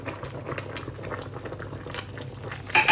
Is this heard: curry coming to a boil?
yes